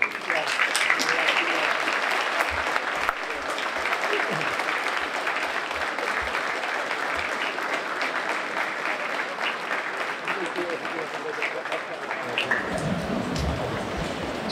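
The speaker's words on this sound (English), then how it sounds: "Please stand and give them an applause" A graduation ceremony audience at David Prouty High School stands and applauds, a dense steady wash of clapping that holds for several seconds and then starts to thin near the end, with a few scattered voices mixed in.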